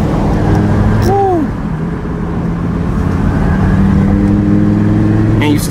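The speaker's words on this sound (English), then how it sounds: "And you still get that twin turbo V10 spool" A twin-turbo Lamborghini V10 cruising and revving, with a steady loud engine drone, a brief rising whine near the start, and a sharp spool or blow-off burst at the very end.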